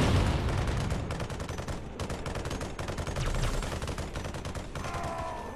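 Continuous rapid gunfire from units in the Halo Wars video game, dense repeated shots at steady volume throughout with no talk.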